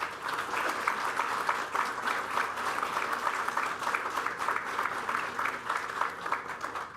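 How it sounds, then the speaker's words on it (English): Students applauding at a First Responders Center groundbreaking, a steady, even round of clapping from a sizable group that lasts several seconds with no talk over it. "So students, will you please give our faculty a round of applause for their efforts"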